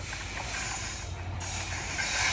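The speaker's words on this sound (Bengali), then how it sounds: "এই যে ট্রেন চলেছে, ট্রেন।" A steady broadband rumble and hiss of a train passing on the Joydebpur line, continuous throughout with a low drone and rising slightly toward the end.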